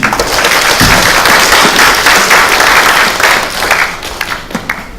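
An audience at a packed Korean Buddhist studies workshop applauds to welcome the host taking the microphone, steady dense clapping filling the room before tapering off near the end.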